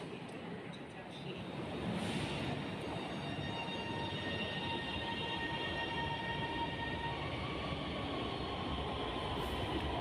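Lahore Orange Line metro train pulling away from a station, a steady loud rumble building after the first second and holding, with faint whining tones riding on top.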